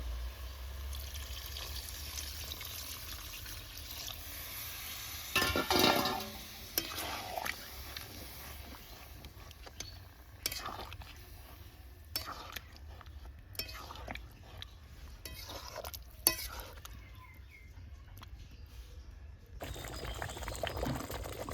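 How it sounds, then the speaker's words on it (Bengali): Water is poured into a pan of browned potatoes for a Bengali vegetarian aloo dum curry, giving a brief splashing pour followed by soft sizzling and intermittent stirring scrapes, quiet and close. "তো এবার অল্প পরিমাণে একটু গ্রেভি গ্রেভি করবো, তার জন্য দিয়ে দিচ্ছি জল।"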